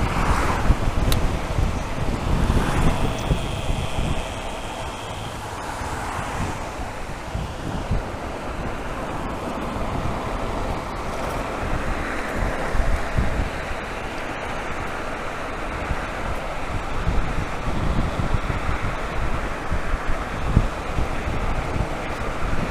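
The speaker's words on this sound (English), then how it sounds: "the wind is coming sort of like diagonally at me at the minute" Steady, heavy wind roar buffets the microphone on a Super Soco TSX electric motorcycle cruising at about 35 around Lowestoft, with a crosswind hitting the rider at an angle, continuous and loud throughout with no talking.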